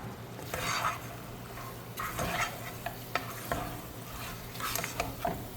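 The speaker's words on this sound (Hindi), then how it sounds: "इन सब चीज़ों को भी हम मिक्स कर लेंगे सब" Mutton tossed with chilli powder and salt in a pan over medium flame, a spatula scraping and stirring in repeated bursts over a steady low sizzle, close and fairly loud, no talking.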